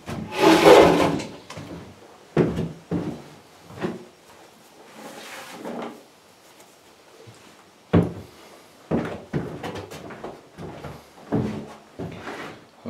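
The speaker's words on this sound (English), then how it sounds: "if I'll close the door here" Wooden door of a homemade 8x8 hunting blind being handled and shut, with a series of knocks, rubs and thuds from the wood at close range, spaced irregularly over several seconds.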